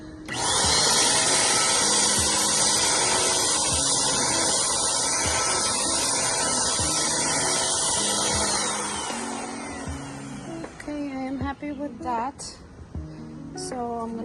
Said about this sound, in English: we're ready to test the paint sprayer to make sure that the settings are correct